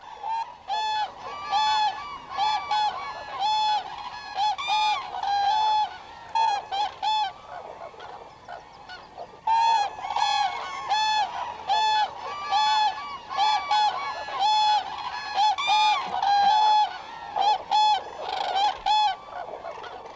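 A European crane pair trumpets a duet, loud honking calls repeating in rapid alternating bursts from two voices, continuing nearly nonstop with a short pause midway.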